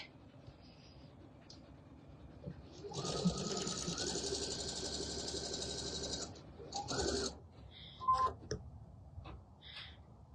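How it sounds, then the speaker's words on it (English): A sewing machine runs in one steady burst of about three seconds while stitching a drawstring bag, followed by a few short bursts and clicks. "that line is going to become our stitch line, and we're going to stitch directly on top of that"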